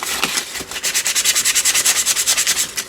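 Sandpaper scrubbed over paper to distress it, a loud, close, raspy rubbing in fast regular back-and-forth strokes that settle into an even rhythm, heard alone.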